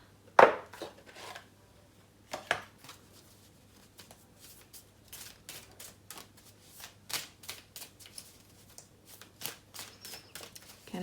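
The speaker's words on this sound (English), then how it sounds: "I'm going to pull some animal spirit cards as well." Animal spirit cards shuffled and drawn by hand, a quiet run of soft riffling and slapping card sounds with irregular bursts and pauses, close and faint, with no one talking.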